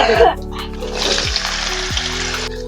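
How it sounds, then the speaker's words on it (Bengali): Oil sizzles steadily as potatoes fry in a kadai, with a few soft low thumps and scrapes from stirring beneath the hiss. "লাল লাল করে আলুগুলো ভেজে নিলাম"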